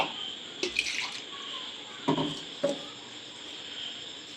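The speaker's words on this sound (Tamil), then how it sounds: "இது இப்போ கொஞ்சம் தண்ணி வந்து ஊற்றி ஜார்லேருந்து இருந்து கழுவி ஊற்றிக்கலாம்" Water splashes as it is poured into a blender jar to rinse out wheat dosa batter in a kitchen, a few short, faint pours and sloshes over a low steady background hiss.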